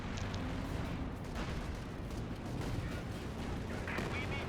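Artillery fire in Company of Heroes 2, a dense rumbling barrage of distant booms and crackling blasts rolling continuously at low volume.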